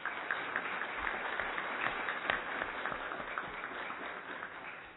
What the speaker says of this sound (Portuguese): Vossa Excelência é digno de todos os nossos aplausos.